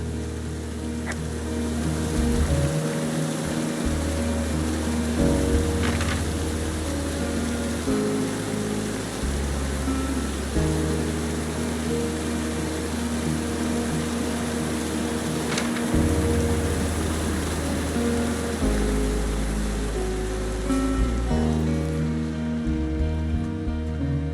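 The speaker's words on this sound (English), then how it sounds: "There's a really nice waterfall down here." Rushing water from a waterfall in the woodland game Firewatch forms a steady, broad wash of noise throughout, continuous and fairly close, with a faint low rumble underneath and no talking.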